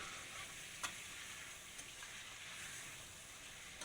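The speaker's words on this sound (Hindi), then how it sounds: "तकरीबन हमें इधर हो जाएगा 7 से 8 मिनट हो जाएंगे चिकन को ऑयल में, घी में जो है वो फ्राई करते हुए" Chicken sizzling as it fries in ghee and oil for a karahi, a steady close hiss and crackle throughout with a few sharper pops.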